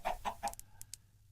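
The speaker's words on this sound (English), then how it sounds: "it's full of chickens under there" Chickens clucking in a confined space beneath a crypt, a few quick muffled clucks in a short burst followed by fainter chirps, fairly quiet and close.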